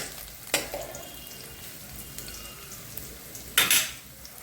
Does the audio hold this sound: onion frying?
yes